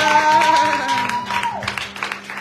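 A church congregation at a Brussels church opening applauds, a loud, dense patter of clapping that thins toward the end, with a sustained electronic tone and a voice running underneath.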